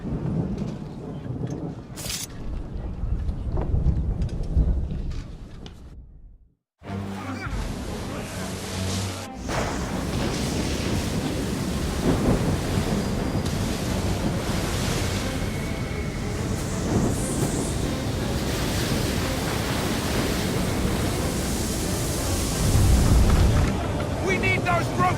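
A storm at sea in Assassin's Creed 3: a constant loud roar of wind and crashing waves with deep booming rumbles. A brief drop near the start gives way to a dense, unbroken din that carries to the end.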